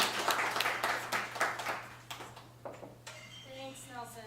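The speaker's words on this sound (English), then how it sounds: "please give a warm round of applause." Scattered audience clapping at a fireside chat event, a handful of close claps that thin out and fade as a voice begins speaking.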